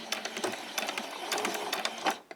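A sewing machine running a back stitch at the end of a seam on a summer top, a quick rhythmic run of mechanical needle taps, close and fairly quiet, with a slight slowdown at the finish and no voices.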